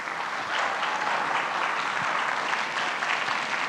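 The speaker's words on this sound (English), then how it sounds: "can we all give them a thanks and applause for all the alumni?" Steady, dense crowd applause fills a middle-school honors orchestra concert as the audience thanks the orchestra alumni, a continuous wash of clapping with no pause.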